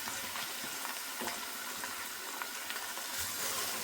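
Onion frying in a pan for spinach chicken curry, a soft, even sizzle that runs throughout with faint scattered crackles, low in level and with no talking.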